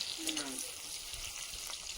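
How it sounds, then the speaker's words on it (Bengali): Brinjal slices frying in hot oil in a home kitchen pan give a steady, close sizzle with soft crackle throughout, alone without talk. "বেগুনগুলো ভাজা হয়ে গেছে তুলে নেবো একটা পাত্রে"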